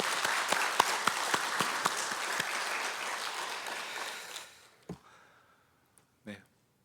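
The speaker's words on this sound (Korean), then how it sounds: "우리 큰 영광의 박수 한번 올려드립니다." Members of a church congregation give a round of applause to God at a year-end Korean worship service, dense clapping that fades out after about four seconds, followed by a few isolated sounds and quiet.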